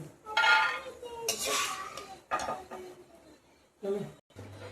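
Fried almonds are scraped from a pan into a dish, with loud metallic scrapes and clinks of a spoon against cookware coming in bursts, separated by short pauses.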